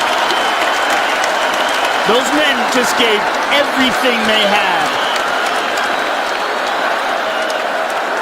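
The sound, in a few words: UFC fight crowd cheering and applauding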